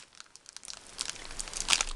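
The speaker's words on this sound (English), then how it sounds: "That's some tough tape, Misty." Close, quiet crinkling and tearing as tough tape is peeled from a paper card, growing louder toward the end.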